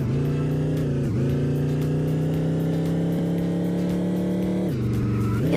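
A car engine drones continuously in the Chicken Gun video game, its pitch holding steady and dipping briefly twice as the driver shifts or slows, with no talking.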